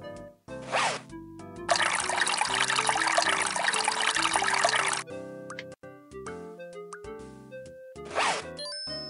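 A zipper is unzipped in the video game Leisure Suit Larry 6, a loud, steady rasping zip of about three seconds. Game music and short sound effects play around it.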